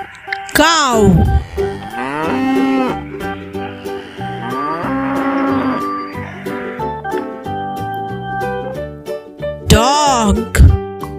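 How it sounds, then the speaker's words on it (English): A cow lowing in a children's farm animal lesson, with a long loud moo near the start and another at the end, set over a bouncy musical backing; a voice speaks briefly. "cow,"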